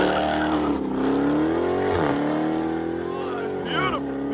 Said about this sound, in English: Hellcat with FLOWMASTER Outlaw shorties in the middle